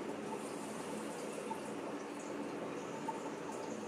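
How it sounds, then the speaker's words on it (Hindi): Water runs steadily through a newly repaired drilling pipe, a soft continuous rushing flow at moderate distance with no talk over it. "ओके, अब पानी चालू करता हूँ, आवाज सुनिएगा।"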